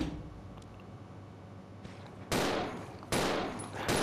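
Handgun shots in Resident Evil 0 crack out loud and sharp, three separate blasts spaced under a second apart, each one ringing briefly after a quieter stretch of low background ambience.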